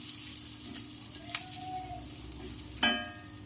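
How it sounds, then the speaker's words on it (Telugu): Dry fruits and sesame seeds fry in ghee in a pan, a low continuous sizzle with a few light clicks and stirring knocks, one sharper clatter near the end. "నెయ్యి వేసుకొని నేతిలో ఇవన్నీ వేయించుకోవచ్చు. ఇది వేగిన తర్వాత నువ్వుపప్పు కూడా వేసి వేయించుకోవచ్చు."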